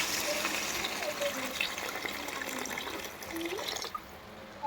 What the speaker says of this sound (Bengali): এরপরে আমি এর ভেতরে জল দিয়ে দেবো পরিমাণ মতো জল দেবে